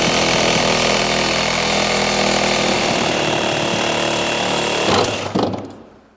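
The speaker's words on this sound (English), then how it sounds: "So you can easily remove the strut with a Sawzall." A Sawzall reciprocating saw cuts through the rear strut of a 2005 Honda Civic, a loud dense buzzing rattle running steadily before it stops with a clunk as the metal gives way and the motor winds down.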